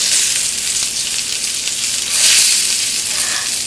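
Loud, steady sizzle of small, tender stuffed eggplants frying in a pan over medium heat, a continuous bright hiss that swells briefly partway through, with no voices.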